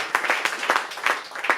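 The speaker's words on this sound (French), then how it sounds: "Applaudissons pour Jésus-Christ" Applause from a church congregation praising Jesus Christ, heard as a few irregular bursts of handclaps spread over a short stretch, moderately loud and fairly sparse, not a dense ovation.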